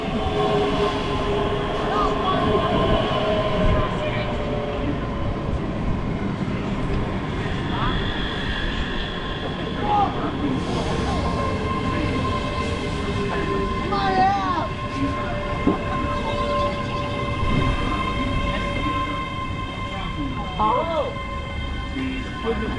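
A diesel train passes at the Bo'ness and Kinneil Railway during a spring diesel gala, a steady rumble with sustained engine tones running throughout, with people talking nearby.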